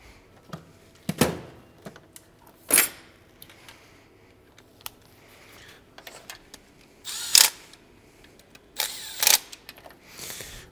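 A hand tool clicks and clacks against metal while ground points are tightened on a 2013 BMW Z4 E89 with the 2.0L N20 engine, sharp separate snaps and ratchet bursts spaced over quiet gaps.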